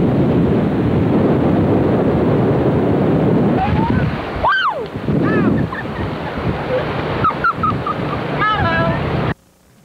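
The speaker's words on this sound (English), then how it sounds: "Wind's blowing right into my face." Strong wind buffets the microphone beside a steaming hot spring runoff at Yellowstone's Firehole River, a loud continuous roaring rush, with a voice speaking over it partway through before it cuts off abruptly.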